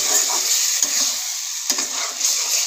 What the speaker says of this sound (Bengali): এবার ডিমগুলোর সাথে মশলার সাথে ভালোভাবে কষিয়ে নেব